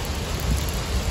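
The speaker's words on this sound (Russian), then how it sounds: "Вот такая у нас не очень веселая погода. Осенняя, холодная и дождливая." Steady autumn rain falls and drips in cold, grey weather, a continuous soft patter with a low rumble of wind underneath, fairly close and even throughout, with no voices.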